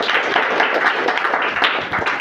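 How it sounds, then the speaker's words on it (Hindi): An audience at a high school award ceremony for Bihar Day gives a student loud, dense, continuous applause from a crowd of clappers. "इनके लिए भी जोरदार तालियां"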